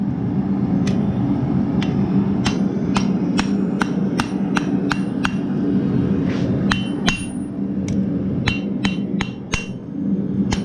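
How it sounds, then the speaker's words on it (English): A hammer forges a bevel into a horseshoe knife, with sharp ringing blows struck in quick uneven bursts over a steady background rumble. "now I'm starting to forge in my bevel"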